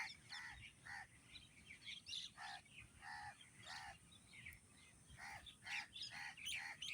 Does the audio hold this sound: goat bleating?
no